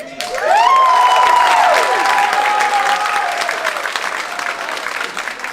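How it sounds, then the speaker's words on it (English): A theatre crowd at a comedy performance in the Historic Everett Theatre breaks into loud, full applause, with rising whoops and cheers over the first seconds before the clapping settles into a steady roar that slowly thins. "Clap your hands if you got vaccinated."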